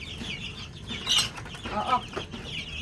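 Young chickens clucking and chirping on a farm in the morning, with a few brief calls standing out over a low background, while a person murmurs briefly.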